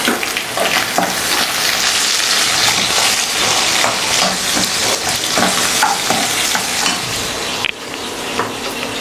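Onions frying in a pan for fried rice, a loud continuous sizzle with repeated scraping stir strokes near the microphone, with no voices.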